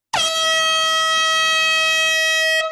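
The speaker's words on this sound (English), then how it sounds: "We have our first air horn of the night." One long, loud air horn blast with a rich, buzzy tone, starting abruptly and holding steady for over two seconds before cutting off, at a live vinyl record sale.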